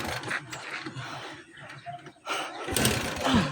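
A motorcycle engine being started at a gas stop, with a cranking and sputtering mechanical burst that rises to a louder rumble near the end, heard fairly close alongside outdoor background noise.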